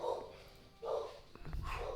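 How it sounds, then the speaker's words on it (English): Pet dogs barking indoors in a few short bursts, moderately close but fairly quiet, separated by brief gaps. "My dogs are awake"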